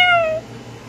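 A single short, falling meow from a cat, close and clear, fading out within half a second over a quiet room hum.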